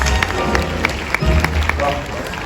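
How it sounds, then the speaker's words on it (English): Theme park special effects show crowd applauding, clapping and cheering swell across the stands with scattered sharp claps, while a presenter's voice carries over it. "Give him a big round of applause."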